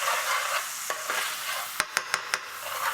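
Veg dhansak is sizzling steadily in a pan over a low gas flame, a bright frying hiss with a few sharp spoon taps and scrapes against the pan as it is stirred, close and without talk.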